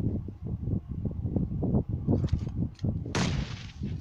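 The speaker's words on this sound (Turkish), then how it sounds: "Oo, biri bomba attı." Grenade blast in the PUBG Mobile battle-royale game: a run of soft, rhythmic low thumps, then a sudden loud, broad explosion near the end that rings on for a moment.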